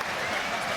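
Stadium crowd at a Leicester Tigers versus Exeter Chiefs Premiership rugby match applauding near half-time, a dense, steady wash of distant clapping with voices mixed in.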